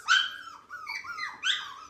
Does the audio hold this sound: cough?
no